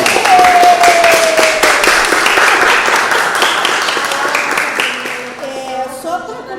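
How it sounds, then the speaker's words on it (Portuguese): Audience at a film screening and debate session claps, a dense burst of applause that gradually fades over several seconds as whistles and a few voices rise above it. "eu quero palmas"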